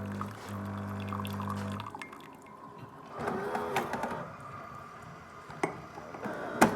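A Siemens EQ6 s100 coffee machine hums loudly with a pump drone at first, then water dispenses with a trickling, pouring flow, punctuated by small clicks and ticks, close by.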